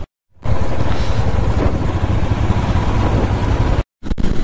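Motorcycles on a group ride from Kolkata to Siliguri, a loud, close engine drone with wind rush, cutting off briefly at the start and near the end.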